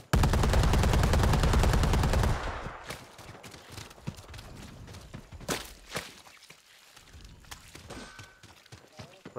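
Sniper rifle fire in a video game firefight: a dense, loud burst of continuous gunfire gives way to a few sharp, isolated cracks spaced seconds apart over quieter background noise.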